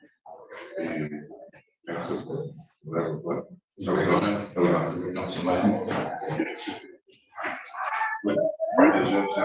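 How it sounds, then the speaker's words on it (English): A dog barks and grunts in bursts of varying length, close by, with short pauses between them. "I'm gonna put myself on mute because my dog is barking"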